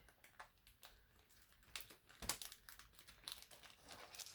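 Plastic bag holding model kit parts being handled and cut open, producing close crinkling and rustling in irregular bursts, with a louder crackle partway through.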